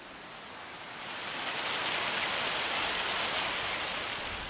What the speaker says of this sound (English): Oh, that sounded like hail.